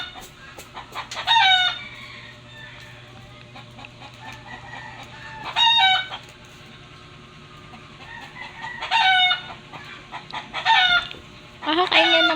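Chickens cluck steadily close by while a rooster crows loudly about five times at irregular intervals, the crows standing out above the quieter clucking in the background.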